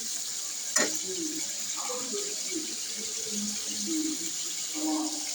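Red lentils fry in a pan with a soft, steady sizzle and hiss, broken by a sharp clatter of stirring near the start and faint scraping and movement sounds after.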